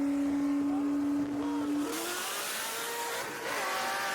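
A twin turbo Corvette C6 races on a street at night, a distant engine howl rising and sweeping through gears, with a steady hum falling away as the roar builds under faint crowd noise.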